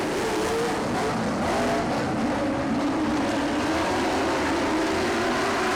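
Race cars roar past at speed on an oval dirt track, a white hot rod in the lead, the engines forming a loud, continuous, dense blare without pause.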